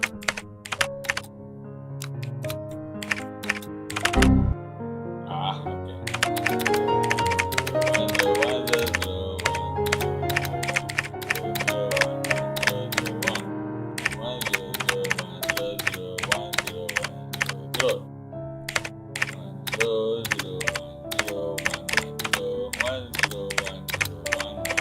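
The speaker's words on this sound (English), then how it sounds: "All he needs to do is type O's and 1s in the right order." Someone types a long run of 0s and 1s on a computer keyboard, with rapid, continuous key clicks and taps under a layer of background music.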